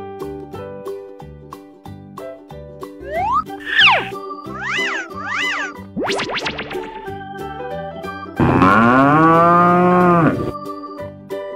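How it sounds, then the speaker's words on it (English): A cartoon cow gives one long, loud lowing moo in a children's animal cartoon, following a run of playful music and bouncy springy sound effects. "Cow."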